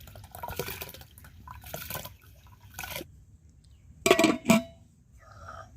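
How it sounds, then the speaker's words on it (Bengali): Rice poured into a pot of hot water while cooking Bengali-style rice, giving soft watery splashing and trickling, then two louder, sharper pours near the end before it settles back to quiet. "জল গরম হয়ে গেছে, তো আমি চালগুলো দিয়ে দিচ্ছি।"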